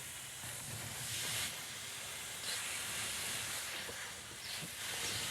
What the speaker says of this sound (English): y'all hear it sizzling